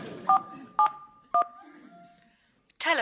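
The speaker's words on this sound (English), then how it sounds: "someone who is about to dial" Telephone keypad tones as a number is dialed, three distinct beeps spaced apart, then a brief click and a burst of voice at the end.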